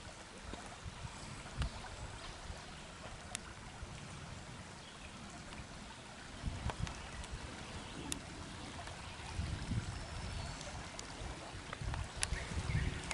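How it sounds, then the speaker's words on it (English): Wading across a stream on foot in water shoes to reach a trail on a hammock camping overnighter: steady splashing and sloshing of moving water, close and continuous, with heavier churning bursts as the feet push through. "gotta cross this water right here to get to that trail right there"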